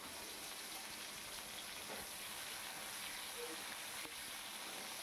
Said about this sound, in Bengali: তখন আমি তার মধ্যে কেটে রাখা আলুগুলো ভেজে নিচ্ছি